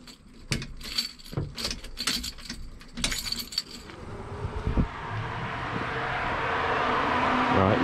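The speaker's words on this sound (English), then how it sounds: "I'm gonna turn the key on." Car keys jangling with a series of sharp metallic rattles and clicks as the ignition key is turned on, then a low rising electrical hum builds steadily and fills the rest.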